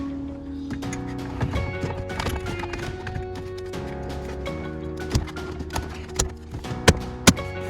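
Handling noise and a low hum inside a 3rd-gen Toyota Tacoma, then a few sharp plastic clicks and taps close by as a Bulletpoint mount clicks into place, the loudest near the end.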